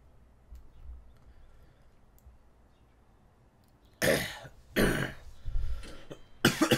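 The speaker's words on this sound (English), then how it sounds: "you guys will have to excuse my coughing" A few harsh, loud coughs break out one after another near the end, following several seconds of quiet room tone while a prison-management video game is played.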